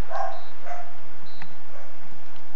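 A dog barks indoors in a room, a few short yapping barks close by in the first second or so, then fading into quiet room noise.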